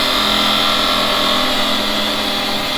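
A wood lathe spins steadily while a skew chisel shapes a fishing baiting needle, a loud continuous whirring drone with a bright high-pitched edge and no breaks or voices.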